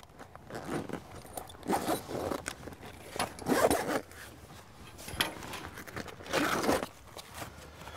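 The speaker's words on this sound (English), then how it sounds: "So you gotta unzip the tent." A fabric roof tent on a Conqueror overland camper trailer being unzipped. The close zipper rasps in several bursts of varied length with short pauses between them, and no one speaks.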